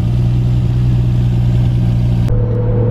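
A Toyota Supra engine runs loud and close with a steady, droning mid-pitched note that holds throughout, then shifts abruptly to a different tone near the end.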